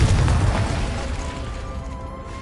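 A Bombarda or Confringo blast spell in Hogwarts Legacy: one loud, close booming explosion that rolls off into a rumbling decay over a couple of seconds.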